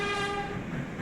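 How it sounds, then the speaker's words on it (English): Simulated R188 G subway train in the OpenBVE train simulator game at Smith–9th Streets sounds a sustained, steady horn tone over rumbling rail noise, loud and close, lasting about a second. "Look at this train."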